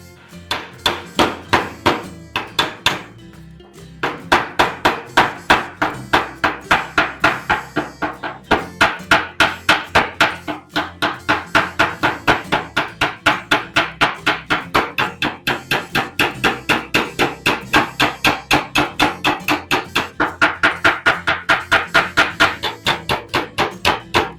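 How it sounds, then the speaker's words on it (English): Steady, loud hammer blows on a dolly during fender repair on a 1937 Ford coupe. Rapid, evenly spaced metallic strikes run almost continuously, with a brief pause near the start and another around eight seconds. "there I was hammering on dolly."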